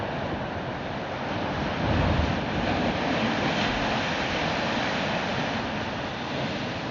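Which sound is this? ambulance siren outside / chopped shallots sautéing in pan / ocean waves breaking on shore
ocean waves breaking on shore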